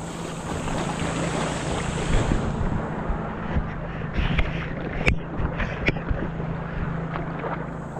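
Sea waves wash and slap around a moving boat alongside steady wind rumble across the microphone, with occasional sharp splashes and knocks, continuous and fairly loud.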